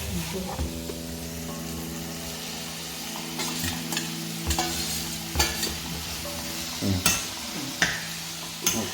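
Bitter gourd sizzles in hot oil in a pan while a spoon stirs it, with a constant frying hiss broken by sharp scrapes and knocks, several bunched toward the end, and a faint steady tonal hum underneath.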